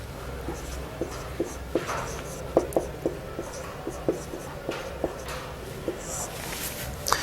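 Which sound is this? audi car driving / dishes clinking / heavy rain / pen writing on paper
pen writing on paper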